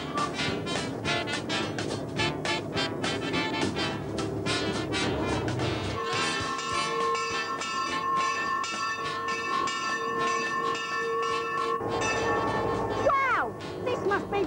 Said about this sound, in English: And now where's the train to the Gold Reef City?